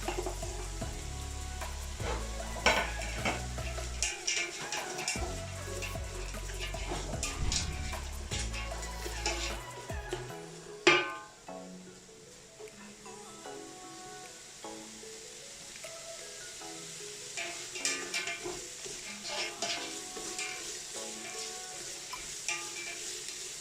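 Beans and carrots being stir-fried for chicken fried rice, with busy clattering stirs and scraping over a continuous sizzle, louder and denser at first, then a quieter frying bed.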